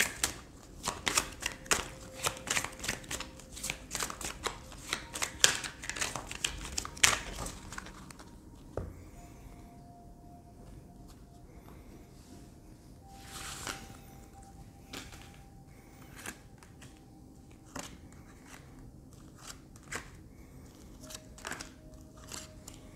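Tarot cards are shuffled in quick, dense riffling bursts, then drawn and laid down one at a time as scattered soft slaps and flicks in a quiet room.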